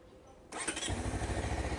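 A Honda CBR250RR motorcycle on stock exhaust starts up close by, with a short starter whir followed by the engine catching into a steady, rhythmic idle pulse.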